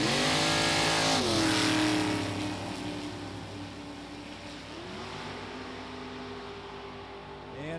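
A big-block Chevrolet Cavalier drag race car roars through a run with a loud, harsh engine note, shifting gears at least twice as the pitch drops and climbs again, heard close over the rumble of the track.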